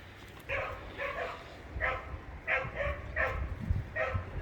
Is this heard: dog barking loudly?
yes